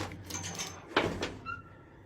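A tied-shut door in a cathedral tower is unhooked and swung open, a sharp thump followed by a brief creak and scrape, close by in a quiet space with no talk.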